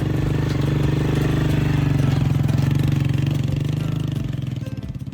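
A motorcycle engine runs steadily at a low, even idle-like pulse on a rough mountain road in Konsh Valley. It stays close and continuous throughout, easing slightly in loudness near the end, with no talk.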